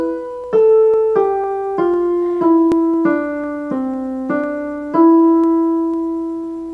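A keyboard plays a slow descending modal melody in Phrygian mode, about ten distinct sustained notes struck one at a time in an even rhythm, close and clear with no talking.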